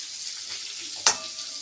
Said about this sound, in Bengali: বেগুনটা ভাজো।